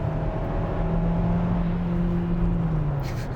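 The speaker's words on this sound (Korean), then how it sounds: "엔진 음색 자체는 솔직히 말하면은 뭐 듣기 좋은 음색은 아니에요." Engine of a Kia Seltos gasoline SUV (193 hp) accelerating from inside the cabin, a steady rising drone with climbing engine tones over about three seconds.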